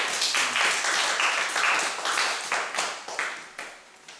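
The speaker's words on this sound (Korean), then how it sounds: "고생한 사회자한테도 박수 한번 쳐주자" Audience applauding a debate moderator at a middle school debate contest, a sustained burst of clapping from a room of students that swells and then tapers off, with faint voices underneath.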